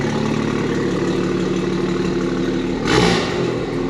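A BMW M240i engine idles with a steady low rumble, then blips the throttle near the end in a brief rev with popping exhaust chop, loud and close.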